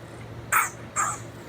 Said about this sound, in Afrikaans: Dit is definitief die bure se hond wat deur 'n skerm blaf.